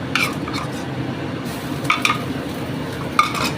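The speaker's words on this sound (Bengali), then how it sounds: "পেঁয়াজ ভাজতে ভাজতে এর মধ্যে দিয়ে দিচ্ছি এই 1 চামচ ভর্তি করে আদা রসুন বাটা" Onions frying with ginger garlic paste stirred in a pan: low steady sizzle under a few clinking spoon-against-pan strokes, close and fairly loud, with no talking.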